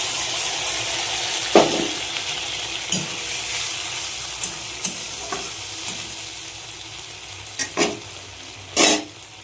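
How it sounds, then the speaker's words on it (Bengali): Tomato and mixed vegetables fry in a pan, a continuous loud sizzle broken by several scraping strokes of a spatula as the mixture is stirred, the last few stirs sharper and closer together. "সবজাতটা ভাজা ভাজা হয়ে গেছে এবার মশলাটা দিয়ে দেবো"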